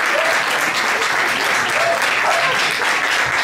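Steady, full applause from a club concert audience at Firlej greets a singer, many hands clapping loudly and evenly without pause, with a faint voice barely surfacing beneath.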